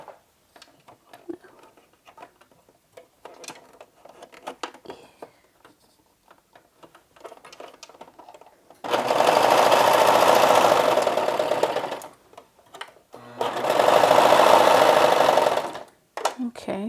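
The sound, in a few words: sewing machine running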